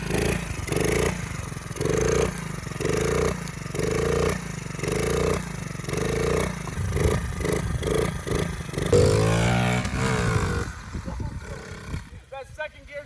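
A vintage pit bike engine revs hard and close, rising in rhythmic pulses through the gears with rough, buzzing bursts and a final drop-off, with no other sounds alongside.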